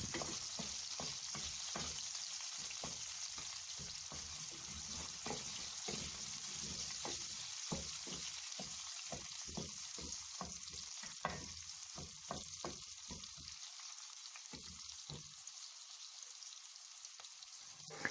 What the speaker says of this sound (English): First, we are going to fry the onions.